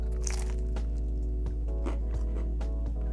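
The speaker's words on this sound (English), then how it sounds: "An even more satisfying crunch." Crunchy crust of a Twisted Luau frozen pizza from Peps Drafthaus being bitten, giving a few sharp crackling bites close up over a steady low background hum.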